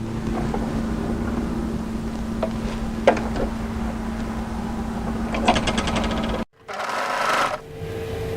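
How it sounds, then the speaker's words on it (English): A sewing machine stitches the unnotched edge of a folded jacket cuff for an A-line hooded jacket, running as a steady close hum with a few light clicks, then briefly cutting out before restarting. "We're going to sew together the unnotched edge."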